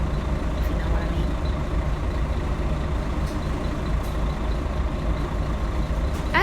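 An old Scania L113CRL Ansair Orana bus engine drones loudly and steadily from inside the cabin, a dense low rumble with rattles running throughout.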